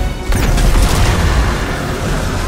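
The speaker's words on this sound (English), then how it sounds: "Have a grenade." In Destiny 2, a grenade goes off with a sudden deep boom after a brief quiet moment, then a rumbling tail that lingers loud and slowly settles.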